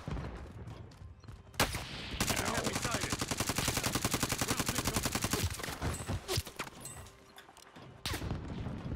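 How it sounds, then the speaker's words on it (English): Gunfire in a Call of Duty Warzone match, with a few single loud shots followed by a long rapid burst of automatic fire, then scattered shots and impacts, close and very loud, with a player's voice faintly underneath. "How are they shooting at us?"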